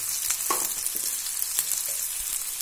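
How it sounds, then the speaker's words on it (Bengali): Chopped onion frying in a pan with salt, giving a dense, even hiss of sizzling oil with a few faint stirring clicks, close by and without speech. "পেঁয়াজ কুচি দেব, তো ভালো করে ভেজে আমরা উঠিয়ে রাখবো"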